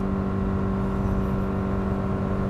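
A 2024 Subaru Crosstrek with a 2.5-litre engine and CVT accelerates with a close, steady droning whine that holds a constant pitch. No one speaks.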